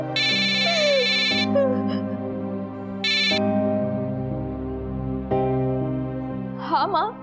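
Electronic tones and a phone ring melody of an outgoing call play in segments, loud and close, with no voices.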